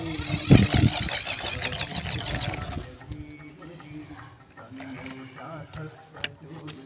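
A small homemade PVC pipe tractor with a drill-machine style gearbox, driven by a motor on a 12V battery, whirs and rattles mechanically; the sound is louder at first, then continues as a lower, steady hum with scattered clicks and ticks.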